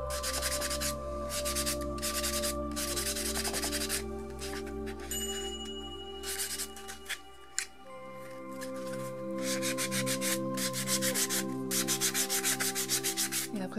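Sanding of a sculpted ball-jointed doll body, steady rhythmic scraping strokes in repeated bursts, close and fairly quiet over a faint background hum with a few tonal whines.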